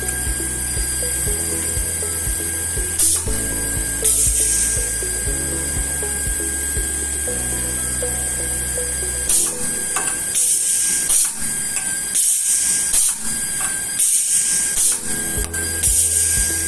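A pneumatically operated rocker arm spot welder (Electroweld SP 40P) joins 1 mm thick components, giving short clanking mechanical bursts and a steady hum with repeated weld pulses, close and loud with no talk.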